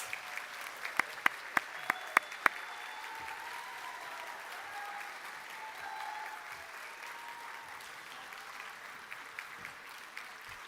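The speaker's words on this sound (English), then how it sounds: "please give a round of applause for the class of 2025 as they transition to clinical practice." Audience applause at a nurse anesthesia white coat ceremony for a graduating class, steady clapping from a crowd in a hall with a few loud nearby claps standing out early, then tapering to scattered claps.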